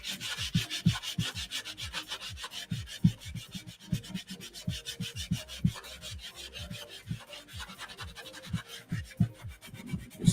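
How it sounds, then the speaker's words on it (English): Close, quiet rhythmic scuffing as a surface is roughed up with an abrasive during a small RC wing drone build, made of rapid back-and-forth rubbing strokes that keep up steadily throughout. "Actually, first let me scuff that up."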